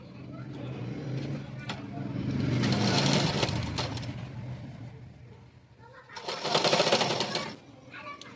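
A sewing machine stitches a blouse collar in two short runs, the motor whirring up and stopping between them, while a person talks throughout.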